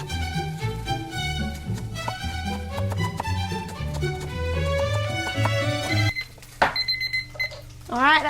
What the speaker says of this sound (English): Alright, that was the timer for the mushrooms.